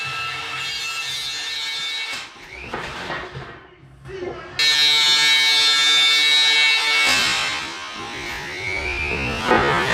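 Strip and clean disc on a grinder working the metal of a Classic Mini rear panel, a loud buzzing whine that cuts out for a moment, then resumes close up, with speech mixed in.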